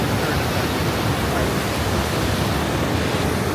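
Upper Falls waterfall at Johnston Canyon roars as a dense, steady broadband rush of falling water, loud and unbroken throughout.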